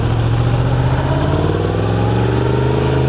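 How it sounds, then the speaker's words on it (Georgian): Yamaha R7 motorcycle engine running steadily nearby, a loud continuous low drone holding an even pitch for a few seconds with a slight rise toward the end. "აი კიდევ ერთი Yamaha R7."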